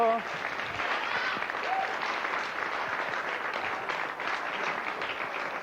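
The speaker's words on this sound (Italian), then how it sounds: "Applauso." Studio audience applauding at a 1997 Italian youth talk show in Veneto, a dense, steady wash of clapping sustained throughout at moderate loudness, with faint voices mixed underneath.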